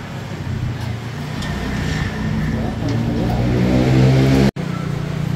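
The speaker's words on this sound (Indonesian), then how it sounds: "Jadi mobil Ayla 1000 pengen ganti reson muffler, udah kita ganti resonnya pakai yang ngebas" A Daihatsu Ayla 1000 car with a bassy aftermarket resonator muffler revs nearby, its low exhaust note building steadily before cutting out abruptly for a moment and resuming, with some talking in the background.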